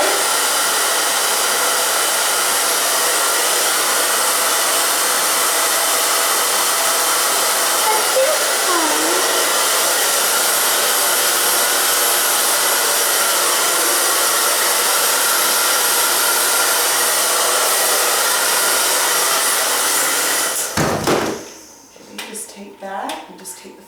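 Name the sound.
hair dryer blow drying hair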